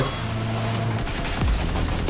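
Gunfire in PUBG: Battlegrounds, a quick burst of several sharp shots and cracks over a steady engine drone, fairly close and loud.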